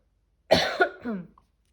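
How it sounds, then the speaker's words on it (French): A single close cough followed by a brief throat-clearing rasp, then quiet. "excusez-moi pour la toux"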